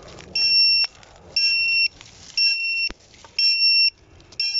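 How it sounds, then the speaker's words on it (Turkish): Buzzer on a new 7-inch Mark4 HD FPV drone beeping after it crashed to the ground: loud, shrill two-tone beeps repeating in regular bursts about once a second, alone with no talk. "Buzzer'ı susturabiliriz."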